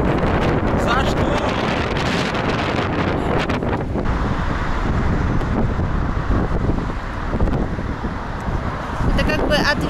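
Steady wind buffets the microphone in a park in Yekaterinburg with a loud, roaring rumble that never lets up for the whole stretch.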